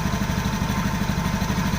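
A Honda automatic scooter engine idles while its idle screw on the throttle body is adjusted, giving a steady, close, even low hum with no break.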